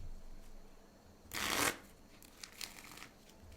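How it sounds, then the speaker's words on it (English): A card deck is shuffled in the Magic: The Gathering Arena video game, heard as one loud riffling burst of about half a second, then a few fainter clicks and soft rustles, with no one talking. "Why do I have a shuffling deck?"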